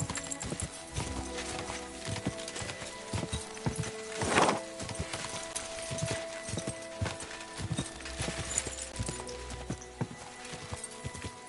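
Rapid clip-clop of horse hooves galloping steadily in Kingdom Come: Deliverance II, with a brief horse whinny partway through.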